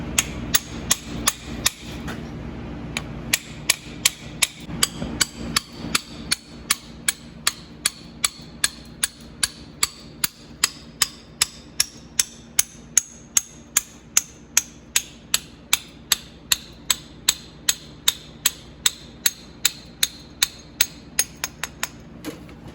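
A steady run of about forty sharp metallic hammer strikes drives a roll pin through a Jeep part, loud and close, the blows evenly spaced and ringing, with a brief shuffle of handling before they begin.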